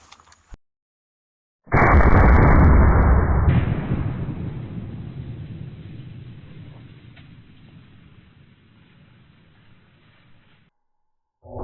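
A single loud blast from an 1887 lever action rifle chambered in 70-150 WCF firing a 900 grain bullet outdoors, a sharp close report followed by a long rumbling echo that fades over several seconds.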